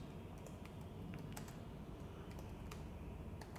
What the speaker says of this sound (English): I'll type any name in this place in cell number D1